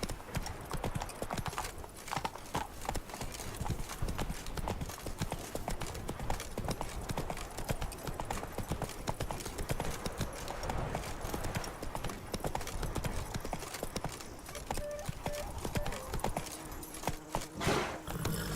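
Roach, a horse in the video game The Witcher 3, clip-clops in a dense, fast, loud run of hoofbeats under steady background noise, with a faint voice now and then.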